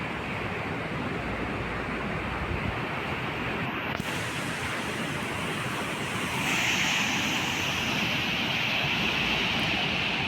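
Night-time ocean surf at Besant Nagar beach in Chennai: a steady, broad wash of breaking waves with wind buffeting the microphone. No one speaks.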